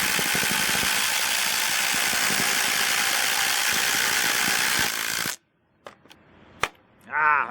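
Ryobi and Masterforce brushless impact drivers running side by side, driving 6-inch screws, a loud continuous rattling hammer buzz that stops abruptly, followed by a few clicks and a brief voice.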